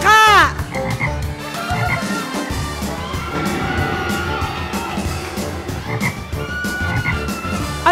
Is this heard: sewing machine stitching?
no